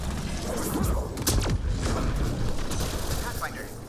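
An explosion in the video game Mass Effect: Andromeda bursts with a loud crash and rumbling debris amid gunfire-like cracks, dense and chaotic over a couple of seconds.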